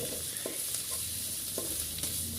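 Curry paste for a Thai chicken jungle curry fries and hisses in a pan while being stirred, with a couple of scraping spoon strokes over a constant sizzle.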